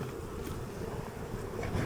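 Steady, dense buzzing of many honey bees hanging outside a hive on a hot day, close by, a continuous droning hum with a slight rise toward the end.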